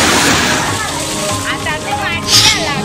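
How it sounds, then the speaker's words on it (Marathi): Heavy unseasonal rain with hail and strong wind in Shahapur taluka makes a dense, steady roar and splatter of water, loud and close, with a voice speaking over it. "वादळी वाऱ्यासह जोरदार गारपीट झालं"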